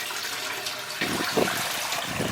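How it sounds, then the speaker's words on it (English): Steady rushing water spilling over an aquascape spillway and down a built cascade in a garden pond, a continuous close splashing flow that swells slightly partway through, with no voices. "So that's the aquascape spillway that we've got there. With a cascade that I've built out"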